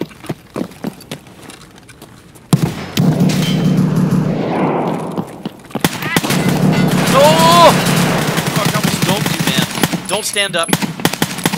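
Gunfire from a .308 rifle in the video game Escape from Tarkov, a series of sharp, loud shots spaced out in bursts with heavy rumbling echoes between them, while players talk over the action.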